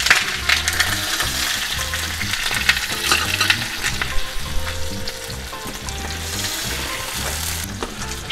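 Rump steak sizzles loudly in hot butter in a sauté pan, a steady crackling fry with soft scraping and stirring noises throughout.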